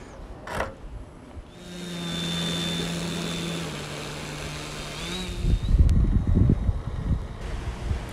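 A Hangar 9 Toledo Special .40-size model airplane engine buzzes steadily while taxiing, its pitch dipping and then rising again, followed by gusty rumbling wind noise against the microphone.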